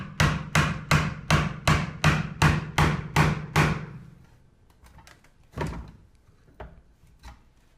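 A chisel is struck hard to chop mortises in a picnic-style dining table. About nine sharp, evenly spaced blows come close and loud, followed by a few softer, scattered knocks.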